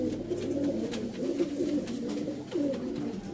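Sialkoti pigeons cooing nearby, repeated low throaty coos in a rolling rhythm, fairly clear with light background noise.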